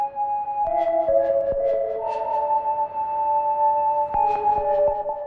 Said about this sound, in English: On top of that, we add maybe a reverb.